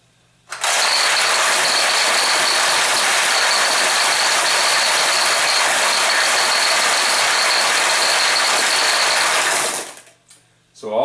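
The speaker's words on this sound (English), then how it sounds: "all the balls up to this point in the supply tray and up this track, all those have fallen down" Pachinko balls pour out of a Nishijin machine's supply tray and track in one dense, continuous metallic rattle lasting about nine seconds, loud and close, then cutting off abruptly.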